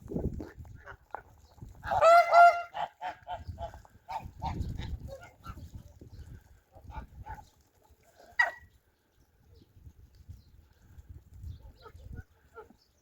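Geese honking in short bursts, a few nasal calls near and then farther off, with low murmuring voices and farmyard noises between them.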